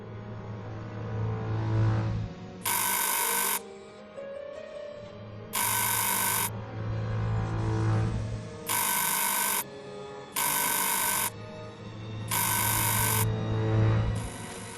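An old telephone bell on the Orient Express rings in six loud repeated bursts over a low steady hum, with short gaps between them and no speech.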